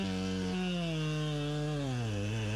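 A chainsaw runs loud and close while cutting through a tree near a power line, its engine tone holding steady and then dropping in pitch as the bar loads up in the wood, with no one speaking.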